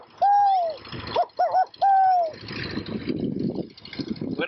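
A handheld bird whistle imitates an owl, giving three loud, close hooting coos with a short stutter between them, then softer breathy, rustling noise trailing off.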